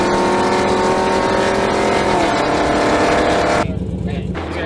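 Hemi V8 car exhaust with long tube headers and catless mids, tuned on 91 octane, roars in a loud, sustained rumble close by for several seconds, then drops to a lower idle burble, with voices mixed in.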